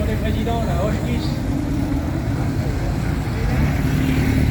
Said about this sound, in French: Allez, la voiture du président, la Hochkiss.